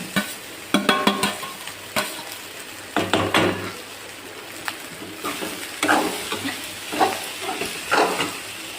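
Rice being added to a frying pan and stirred, with light sizzling under irregular scrapes and knocks of a spoon against the pan, close by, separated by quieter pauses.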